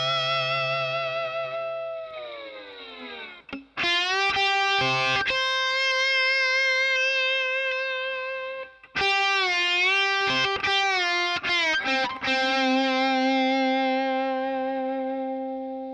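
Electric slide guitar plays the first tab line of a song, a run of sustained, effected notes with gliding slides and short breaks, loud and unaccompanied throughout.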